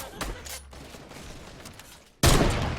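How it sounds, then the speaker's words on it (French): Gunfire in the Fortnite video game during a LAN tournament match: a short burst of shots near the start, a steady game-sound bed, then a loud sustained barrage at the end. "Des tirs qui se fait au niveau de son mate"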